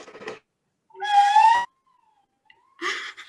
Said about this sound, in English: my handmade toy, because it makes lots of noise, a slide whistle